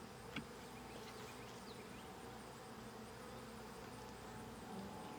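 Honeybees hum around an open hive during a frame inspection. The buzz is a dense, steady drone with a few individual bees passing close, and it is fairly faint and continuous with no talking.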